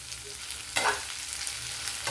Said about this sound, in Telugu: దొండకాయలు వేగడానికి టైం పడుతుందండి